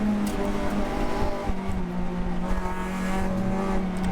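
An Acura RSX race car on slick tires runs down a racetrack's main straight, its engine a loud, steady in-car drone with a droning harmonic and no break for the whole stretch.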